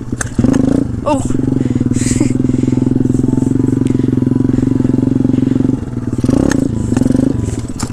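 A pit bike engine droning loudly and steadily while being ridden, close and constant with brief clatters and a short exclamation from the rider.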